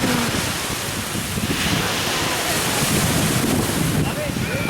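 Sea waves and gusty wind buffet the microphone at a beach in Australia during a barbecue outing, a continuous loud rushing roar with surf wash throughout.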